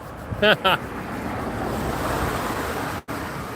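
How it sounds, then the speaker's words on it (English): A motorboat passing out on the water, heard from the shore as a steady wash of waves and engine rumble under wind noise on the microphone, with a brief voice near the start. "Oh, there goes somebody else in a boat."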